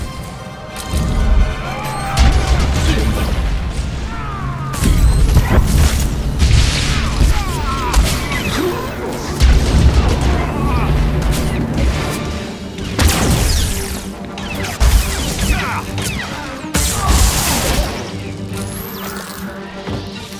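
Heavy gunfire and explosions from a prison-set video game firefight, loud, dense crashing bursts and booms running continuously, with shouted voices briefly mixed in.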